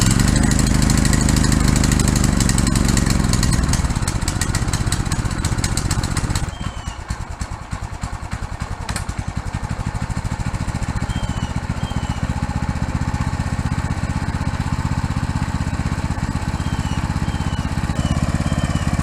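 A Predator small engine on a go-kart runs through its break-in, a loud steady mechanical drone heard up close; the pitch drops partway through and it settles into a lower, even idle.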